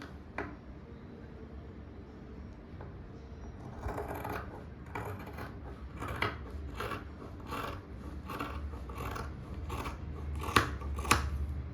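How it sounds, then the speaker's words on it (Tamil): Scissors snip and rasp through fabric while a blouse sleeve is cut out, producing a series of quiet, irregular cuts that grow more frequent and sharper toward the end. "இப்போ இதை வெட்டி எடுத்துக்கலாம்."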